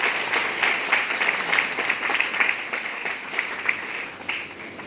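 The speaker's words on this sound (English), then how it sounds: "A big round of applause for him." An audience at an award ceremony claps steadily for about five seconds, a dense, even round of applause from a large seated crowd with no one speaking over it.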